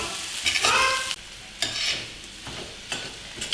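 Garlic egg fry being stirred in a hot pan, a steady sizzle with repeated scraping strokes of a spatula, close and loud with no talking.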